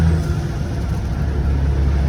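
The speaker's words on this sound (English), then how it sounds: "listening to the engine as we're accelerating here" Semi truck engine accelerating under load on the highway, a steady loud low rumble with a droning throb heard from inside the cab, continuous with no talking.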